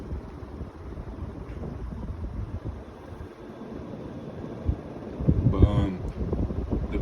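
A Palco Classic Concepts ceiling fan runs with a soft rushing whoosh of moving air and faint bearing noise, low and steady, rising a little toward the end.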